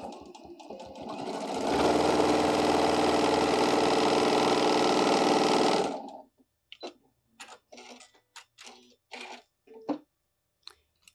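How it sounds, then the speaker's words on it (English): A sewing machine runs steadily for about four seconds as it stitches straight across fabric for a bunny ear basket, a loud close mechanical whir, then stops and a person talks in short phrases. "So I'm just going to sew straight across."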